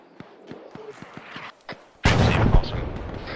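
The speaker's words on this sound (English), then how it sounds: "And there's fucking mortars coming in again." Incoming mortar fire in the video game Arma 3: a few faint thuds, then a sudden loud, sustained blast of explosive rumble and crackle that dominates the second half.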